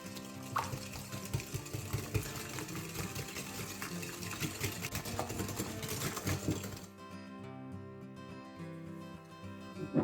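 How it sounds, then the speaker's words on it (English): A steady, rapid whirring of whisking one medium egg with 100 grams of vegetable oil into an emulsion for Italian bomboloni doughnut dough runs for about seven seconds, then drops to a quieter, lingering hum. "we're just going to whisk this up to an emulsion"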